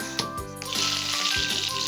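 Cumin, dried chilli and cardamom hitting hot oil for a chicken and banana stem curry: a bright, crackling sizzle swells up after a couple of soft clinks and keeps hissing steadily.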